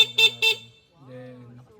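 Horn of a Somero Cheetah V2 three-wheel electric bike, two short close beeps in quick succession, followed by a brief stretch of speech.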